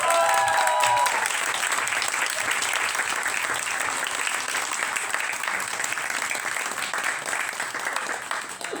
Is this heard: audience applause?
yes